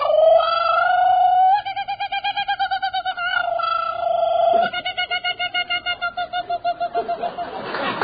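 A man imitates a kookaburra call with his voice on a radio quiz show, a loud run of rapid, pulsing, warbling hoots and chuckles that rises into laughing bursts, alone without talk.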